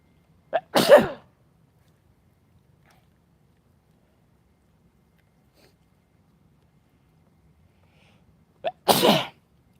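Two sharp, loud allergy sneezes close by, one near the start and one near the end, with near silence between them.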